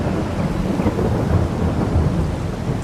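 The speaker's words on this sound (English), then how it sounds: "We'll wait the rain out." Heavy rain and rolling thunder fill a storm in the Farming Simulator 22 farming game, a dense continuous roar with low rumbles throughout and no voices.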